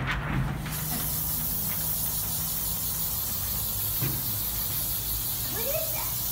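A steady hiss of spray, like an aerosol can releasing, runs through the whole stretch with faint background noise, as cement-based coating is sprayed during a shipping container home build.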